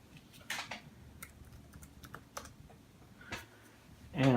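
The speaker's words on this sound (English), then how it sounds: "just type in my password." Fingers type a password on a MacBook Air keyboard, a few soft, quick key taps close by in a quiet room, with a brief voice starting at the very end.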